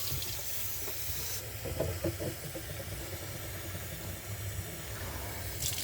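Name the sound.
water poured into a glass dish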